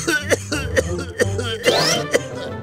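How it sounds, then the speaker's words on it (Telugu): A man coughs repeatedly in a Telugu comedy short, giving roughly six harsh, close coughs in an uneven rhythm with strained vocal sounds between them. "దగ్గు?"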